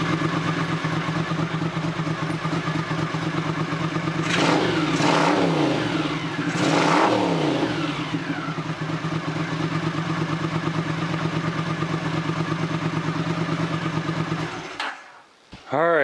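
A Honda CX500 motorcycle engine idles with a steady close rumble, revs up sharply twice, settles back to idle and then shuts off near the end.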